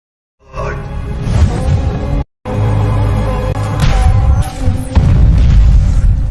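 A bomb explosion in an Indian action film, heavy booming blasts with rushing debris, loud and dense, broken by a brief silent cut before more rumbling detonations follow.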